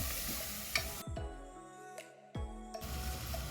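Rice and lentils sizzle in ghee with onions as they are stirred in a pan, a close crackling fry broken by scraping strokes and brief quieter gaps, with no voices present.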